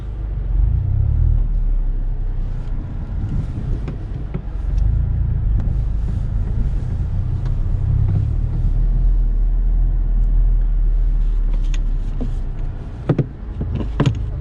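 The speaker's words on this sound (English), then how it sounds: "let's see how this car handles on this normal city driving" A Honda Civic Type R rolls through city traffic in comfort mode, its steady low engine and road rumble droning from inside the cabin, with a few brief clicks and knocks near the end.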